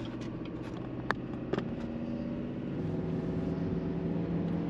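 2021 Chevrolet 3500 Duramax diesel pickup towing a trailer as it accelerates up a freeway hill, a steady low engine drone inside the cab with a few brief clicks and a slowly rising pitch toward the end.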